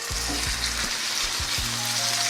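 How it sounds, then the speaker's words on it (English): A ribeye steak searing in hot oil in a cast iron skillet gives a loud, steady crackling sizzle that runs throughout, close and unbroken, with a few low thumps underneath. "I'll take that beautiful ribeye and it's going to go right into that hot oil"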